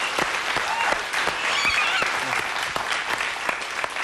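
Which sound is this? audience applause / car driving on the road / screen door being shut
audience applause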